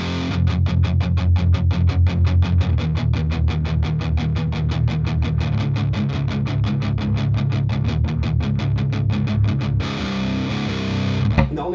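An electric guitar plays the distorted riff from a song, palm-muted and double-picked in a fast, even stream of chugging notes that continues for about ten seconds. The tone is loud and close, and nobody speaks.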